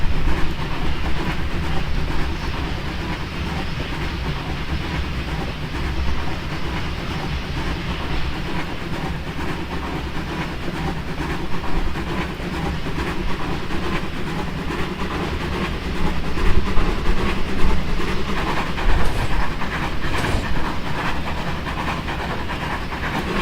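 A locomotive runs in the Trainz railway simulator, its rolling rumble and wagon clatter droning steadily throughout with a few louder bursts near the end, no talking.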